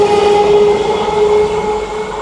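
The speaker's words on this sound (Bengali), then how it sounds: "এই ট্রেন ছেড়ে চলে গেল" A train pulling out of Agradwip station in West Bengal during the Gopinath fair, a loud close rumble with steady tonal whine and rail noise, slowly easing as it moves off, no talk.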